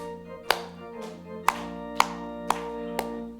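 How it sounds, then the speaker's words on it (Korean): A church congregation at Sunday worship claps along, sharp claps landing on a steady beat about every half second over sustained organ or keyboard chords of a hymn. "자, 우리 박수도 한번 치시면서 뜨겁게 하십시다."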